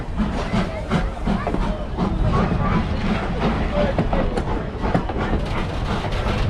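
Thomas the Tank Engine steam train pulling into a station at Strasburg, Pennsylvania, its steady rumble and clickety-clack rolling continuously under crowd chatter and voices.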